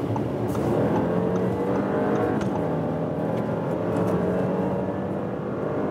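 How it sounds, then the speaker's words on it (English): Audi A6 C8 (2019) with its 3-liter V6 accelerating from 70 to 120 km/h, a steady, even engine drone inside the cabin mixed with road and tire noise, moderately loud and continuous with no talk. "And now let's accelerate. Let's do some 70 to 120 kilometers."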